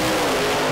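A Pro Mod drag racing car roars down the strip at a 2017 British Drag Racing Championship round, a loud, steady, dense engine blare filling the short burst without any break.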